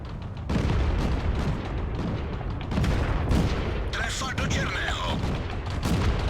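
A Czechoslovakian tank gun in World of Tanks fires heavy booms over constant low battle rumble, with several broadband blasts and crackling debris layered in a dense, loud mix.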